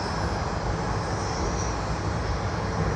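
Virgin Australia aircraft at Sydney Airport, a steady close jet engine whine and rumble holding at constant level throughout.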